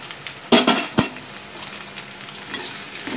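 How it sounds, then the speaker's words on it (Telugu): Okra pieces hitting a pan of frying onions set off a sharp burst of sizzling, followed by stirring scrapes and a steady crackle of hot oil. "ఇప్పుడు ఉల్లిపాయలు వేగిపోయినండి బెండకాయ ముక్కలు వేసుకోవాలి"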